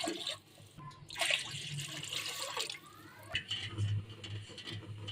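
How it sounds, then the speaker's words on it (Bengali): Water poured into a cooking pot for pulao, a soft splashing stream with gurgling and drips, fairly quiet and close. "এখন এখানে পানি ঢেলা দিব 6 কাপ"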